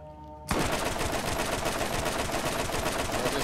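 Sustained machine-gun fire from guns in Borderlands erupts suddenly after a brief quiet moment, then continues as a loud, rapid, unbroken stream of shots.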